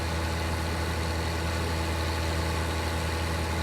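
Tractor engine in Farming Simulator 19, a steady, loud, close idling drone with a low throbbing rumble and no breaks.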